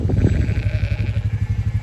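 Sheep bleating out in a field, a steady run of pulsing calls that sound close and fairly loud, with a low engine drone running underneath, likely from a vehicle moving slowly.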